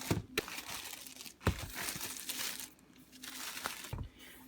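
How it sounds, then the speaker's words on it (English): Plastic wrapping around an Amazon shipping box crinkles and crackles in bursts, close and fairly quiet, with a few sharper crunches between the rustling. "Got more plastic wrapped around the box."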